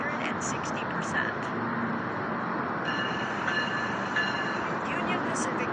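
A Union Pacific freight train rolls by steadily in downtown Los Angeles, a continuous close rumble of wheels and railcars with faint metallic squeals and ringing tones throughout.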